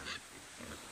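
Native Korean black pigs on a free-range farm give a short, fairly loud grunting squeal, then a softer grunt follows against a low outdoor background hiss.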